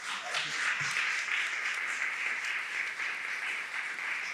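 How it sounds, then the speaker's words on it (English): A theater audience at a public library event gives a sustained, somewhat distant round of applause that stays fairly even throughout, with no voices standing out. "So let's give them another round of applause."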